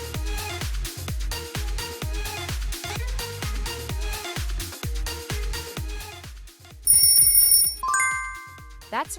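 A BlackBerry smartphone ringtone plays loud and close, a driving pulse of repeated punchy beats giving way to bright, high chiming electronic tones.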